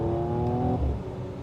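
A Mercedes-AMG E53 engine pulls in second gear at half throttle, a close, steady drone whose pitch holds then drops as the gear changes.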